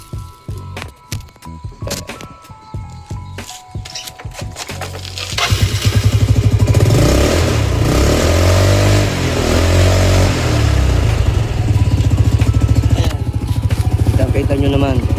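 Yamaha Mio Sporty scooter with a cold engine, first cranking with choppy, uneven bursts, then catching and running loudly, revving in repeated rising and falling waves for the remaining ten seconds.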